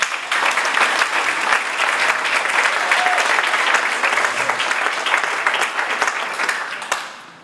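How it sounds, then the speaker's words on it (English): A room of Rotary meeting attendees gives a speaker a sustained round of applause, dense close clapping holding steady for several seconds before tapering off at the end. "I would just like to give him a big round of applause"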